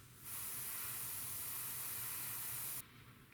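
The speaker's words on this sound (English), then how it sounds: "Okay, so I think we're done spraying the insignia blue." An airbrush sprays insignia blue paint onto a Tamiya P-47M scale model, giving a steady, close, loud hiss that holds for a couple of seconds before cutting off to quiet room noise.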